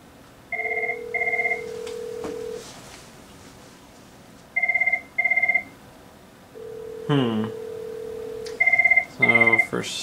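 A Cisco 7975G IP phone rings for a ring group call, sounding repeated electronic double-beep patterns with tones in between, loud and close, with no talking.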